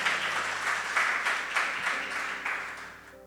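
A church congregation claps for the Lord in a moderately loud burst, the clapping rising in soft pulses and then thinning out, while sustained low organ or keyboard tones play underneath.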